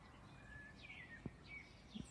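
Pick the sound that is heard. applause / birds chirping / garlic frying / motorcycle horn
birds chirping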